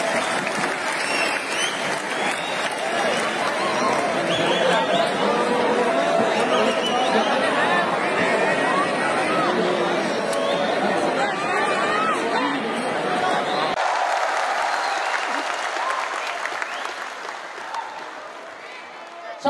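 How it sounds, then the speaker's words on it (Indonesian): Sustained crowd applause at a Labour Party (Partai Buruh) political rally, loud and dense with chatter mixed in, holding steady before thinning to lighter clapping near the end. "Tepuk tangan untuk kita semua."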